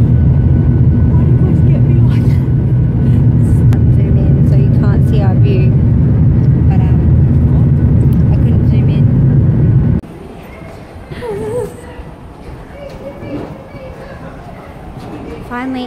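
Loud, steady roar of an airliner cabin in flight, a deep engine drone that drops sharply partway through to a quieter hum while a cabin announcement plays over it.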